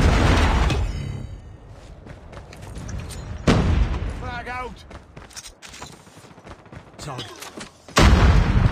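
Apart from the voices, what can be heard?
Predator missile strike explosion in Call of Duty video game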